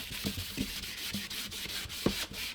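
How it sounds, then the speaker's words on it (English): Hand sanding a guitar top with 1,200-grit sandpaper to prepare it for new paint, close, steady rubbing strokes in a rhythmic back-and-forth pattern with a few light knocks, no talking. "And I'm just sanding it enough so that the new paint that I'm going to put on top can have something to bite into."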